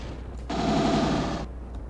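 A plasma gun fires in the Doom Aliens TC mod, a single steady buzzing burst of energy that runs for about a second at close range and then cuts off, with no talk.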